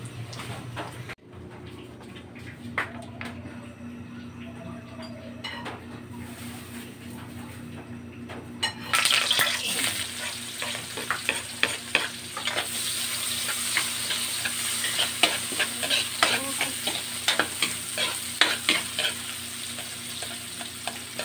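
Food frying in a pan until brown, a quiet stretch giving way to a loud, steady sizzle punctuated by frequent clacks of a utensil stirring close by.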